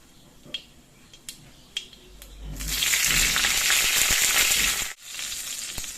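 Potatoes go into a pan of hot oil tempered with nigella seeds, garlic and chilli. A few light taps come first, then a loud, bright sizzle bursts up and holds steady, dips briefly, and carries on frying.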